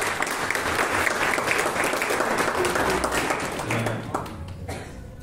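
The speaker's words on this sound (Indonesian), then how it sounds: "Tepuk tangan boleh?" Congregation at a Sunday church service at a theology school applauding in a steady, dense wash of clapping that fades slightly toward the end, with faint voices underneath.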